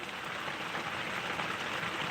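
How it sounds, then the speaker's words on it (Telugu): Rain falls steadily in Sri Sathya Sai district, a faint, even hiss with no talk over it. "ఇక్కడైతే వర్షం పడుతూ ఉంది ఇప్పుడు"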